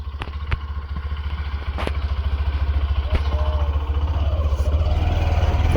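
A motorcycle engine runs steadily near the microphone, giving a continuous low throbbing drone with a few brief clatters, and faint voices sit underneath.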